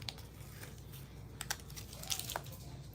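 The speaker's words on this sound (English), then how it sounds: "I'm gonna remove my protective paper from the front part of the acrylic" Protective paper is peeled off an acrylic sheet, giving a soft continuous crackle with a few sharper ticks, close and fairly quiet.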